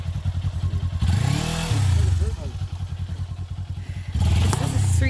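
A Kawasaki Ninja 400 street motorcycle climbs an off-road hill trail, its engine loud and close with a pulsing, rising drone and a couple of surges. Bumps and clatter come from the rough ground, and a rider talks over the noise.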